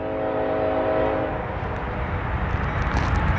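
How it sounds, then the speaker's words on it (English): A Norfolk Southern northbound intermodal freight train rumbles past up close at Cooke Road in Columbus, Ohio, a horn chord fading as the steady roar and clatter of rolling cars takes over. "Norfolk Southern 20N is coming to Cooke Road in Columbus, Ohio"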